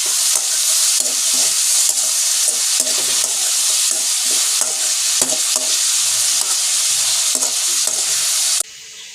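Chillies and curry leaves are stirred and fried in a pan, giving a loud, close sizzle with rhythmic scraping strokes of a spoon against the pan, which drop off abruptly just before the end.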